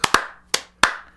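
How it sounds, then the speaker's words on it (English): Four slow, deliberate hand claps, spaced unevenly and ringing briefly, sharp and close with no talking. "I never thought I'd be giving a slow clap to Dr. Oz of all people."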